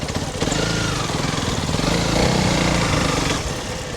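A Honda CRF300 Rally motorcycle rides a sandy enduro trail in Thailand, its engine a loud, close, steady throbbing drone with slight rises in revs.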